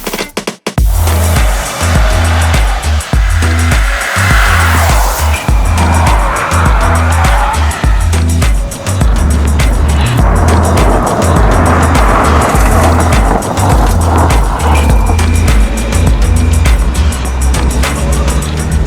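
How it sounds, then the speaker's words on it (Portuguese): A Volkswagen T-Cross 1.0 TSI Comfortline compact SUV drives along a road, its engine and road noise forming a loud, steady, close drone that continues for the whole stretch with no talking. "o que importa mesmo é ver como o carro se comporta na rua, na avenida, nas estradas"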